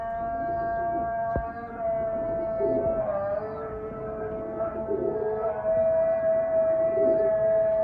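An Islamic call to prayer, a sustained melodic chant carried from a distance over a loudspeaker, with a faint hum underneath and no nearby voices.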